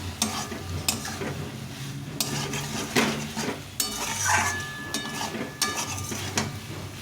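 Cauliflower florets are tossed into a sesame-flavoured masala in a pan and water is poured in, making a sizzle with repeated spatula scrapes and knocks against the metal pan, close and busy.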